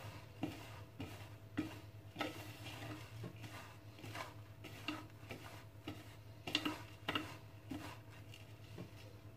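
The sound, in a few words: mixing dried fruits and sugar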